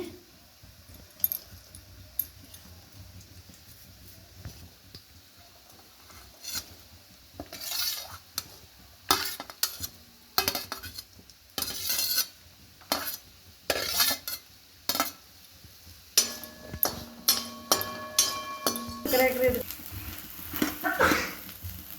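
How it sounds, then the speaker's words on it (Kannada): Garlic and green chillies frying in oil in a pan, a low steady sizzle under repeated sharp scrapes and clinks of a spatula stirring against the metal pan, growing busier toward the end. "ಒಂದು ಬಾಣಲಿಗೆ ಎಣ್ಣೆ ಹಾಕ್ಕೊಂಡು ಬೆಳ್ಳುಳ್ಳಿ ಮತ್ತು ಮೆಣಸಿನ್ಕಾಯಿ ಹುರ್ಕೊತೀನಿ"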